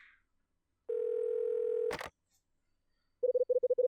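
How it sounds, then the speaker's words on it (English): In the video game Last Window, a phone call starts with a steady dial tone, then a short clatter, then a rapid series of beeping dial tones. "Time to get Rachel on the phone."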